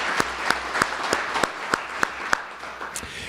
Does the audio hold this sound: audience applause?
yes